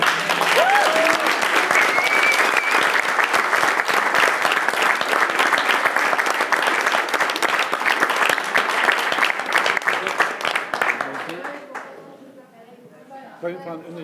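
An indoor audience at a town council meeting applauds the coach and parents with sustained, dense clapping that fades out near the end, followed by scattered claps and voices.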